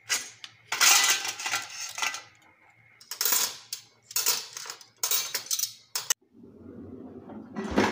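Dried kitchen utensils, pots and steel dishes, being put away: a series of close clattering and clinking bursts separated by short pauses, with a softer shuffle at the end.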